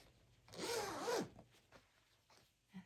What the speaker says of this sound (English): Now I'm going to close this zipper.